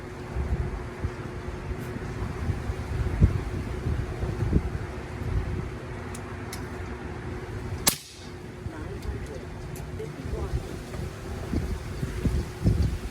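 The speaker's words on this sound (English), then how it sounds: "Really windy out here today." Steady low wind buffeting the microphone outdoors, with a sharp crack partway through and faint background noise.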